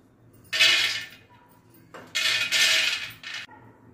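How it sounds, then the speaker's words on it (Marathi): Roasted peanuts poured from a pan into a dish, two loud bursts of rattling, clattering nuts against the dish, close by, separated by a short pause. "तर हे आपण डिश मध्ये काढून घेऊ"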